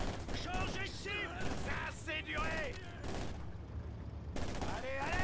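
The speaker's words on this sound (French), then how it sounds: "Une mitrailleuse ennemie novice." Enemy machine gun fire in the Company of Heroes 2 battle, rapid bursts of gunfire mixed with other combat noise and voices, dense and continuous throughout.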